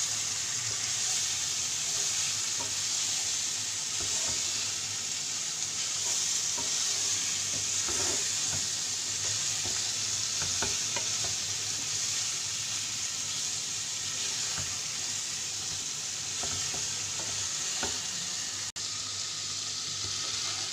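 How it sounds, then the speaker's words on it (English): Tofu fries in a pan with a continuous sizzle while a utensil stirs it slowly, giving soft repeated scrapes over roughly twenty seconds, with no talking. "And then now we're going to put the tofu, but we have to be careful not to break them. I have to mix them slowly."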